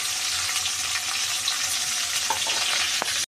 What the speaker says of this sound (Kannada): ಇವಾಗ ಎಣ್ಣೆ ಕಾದಿ ಮೇಲೆ ಸೊ ಫಸ್ಟು ನಾವು ಚಾಪ್ ಮಾಡಿ ಇಟ್ಕೊಂಡ್ರು ಅಂತ ಈರುಳ್ಳಿ ಹಾಕ್ಕೊಂಡ್ವಿ